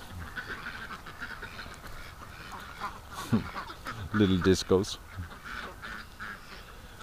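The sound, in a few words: ducks quacking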